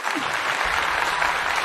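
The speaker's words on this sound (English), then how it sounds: "Can we get a clap up for the panel one time real quick" Applause for a panel on a live dating talk show, a steady wash of clapping from the audience that lasts throughout, with no talking over it.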